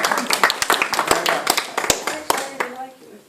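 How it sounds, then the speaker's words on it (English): A small group gives a round of applause, a loose patter of individual hand claps with voices talking over it, fading out toward the end. "Round of applause."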